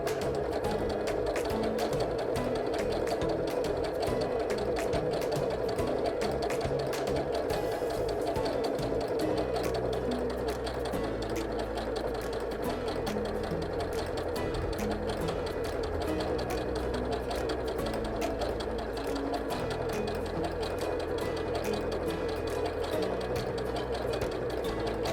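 A Janome 780DC sewing machine stitches fabric, a continuous, close mechanical whir with a fast rhythmic needle clatter that runs steadily with slight shifts in pace throughout, with no speech over it.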